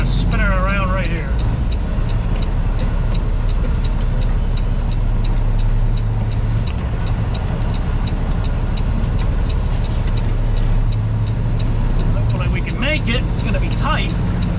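A Peterbilt truck delivering building materials makes a three-point turn on a tight road near a stop sign, its diesel engine holding a loud, steady low rumble throughout, with a brief whine near the start and again near the end.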